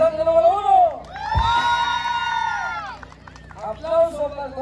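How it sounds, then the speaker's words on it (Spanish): A crowd at a jaripeo-baile in a Mexican rodeo plaza, Plaza Los Compas in La Calzada, Ciudad del Maíz, cheers a contestant. Sustained whoops and shouts rise over a sharp thump, lasting about two seconds between stretches of someone talking. "A ver, aplauso para el concursante número 1."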